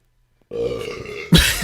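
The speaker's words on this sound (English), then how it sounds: "Burp in there, dude." A loud, throaty burp bursts out after a short silence, stretching for about a second before a sharp louder blast ends it.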